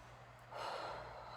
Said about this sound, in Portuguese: fazer aquela respiração profunda, em que você sente a barriga ir pra frente e voltar